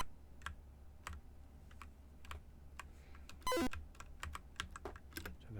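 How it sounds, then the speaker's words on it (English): Arrow keys on a computer keyboard tap in irregular clicks, close and fairly quiet, with one short electronic chime in the middle. "I have to use the arrow keys."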